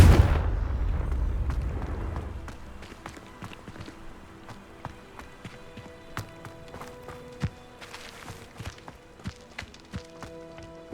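A blasting-spell explosion in the Hogwarts Legacy video game opens with a loud, deep boom that fades over a couple of seconds, followed by a quieter trail of scattered crackles and clicking impacts.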